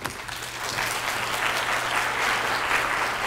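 Audience clapping steadily for a keynote speaker at a 2019 Maryland open source textbook state summit, a dense, sustained wash of applause from a large crowd with no voices over it.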